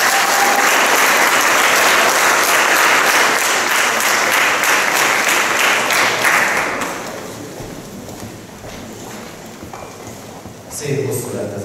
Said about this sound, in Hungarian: Tapsoljunk.